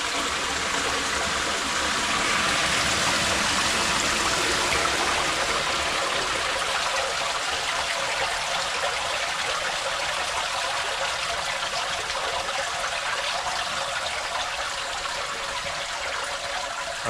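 Steady rushing water pours continuously through opened pond bottom drains, a broad hiss of flow that stays even and fairly loud for the whole stretch with no voices.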